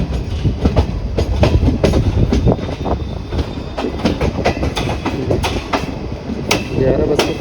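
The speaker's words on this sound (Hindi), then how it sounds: "और हमारी ट्रेन लग रही है" A Lucknow to Prayagraj Intercity Express train rolls past at a station platform, its wheels making a steady clickety-clack with sharp repeated clanks over a constant rumble, close by and fairly loud.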